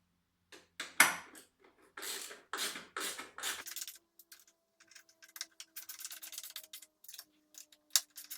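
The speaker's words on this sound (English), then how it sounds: "use the 4mm Allen key and our 10mm ratchet to do these bolts up" A 10mm ratchet clicks in short bursts while tightening bolts on a Kawasaki Z900 motorcycle during a tail tidy install, with rapid ticking strokes up close, some louder clunks early on and a faint steady hum underneath.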